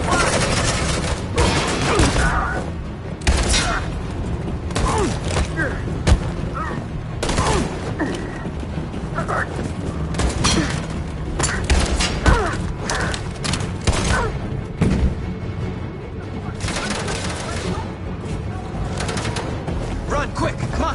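Sustained gunfire rages in a Detroit: Become Human battle scene, dense volleys of shots and thuds running nonstop for the whole stretch, with shouted voices over the din.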